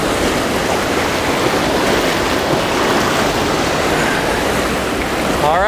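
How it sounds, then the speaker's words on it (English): Water rushes out of a spillway tunnel in a loud, constant, broadband roar with no breaks, close by and heavy, with some wind noise on the microphone. "I was not expecting for there to be that much water coming out of there"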